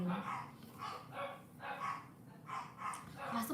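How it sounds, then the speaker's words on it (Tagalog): Neighbour's dogs bark in a rhythmic series of repeated yaps and woofs, moderately near, with a few brief pauses between bursts. "Yung mga aso ng kapitbahay."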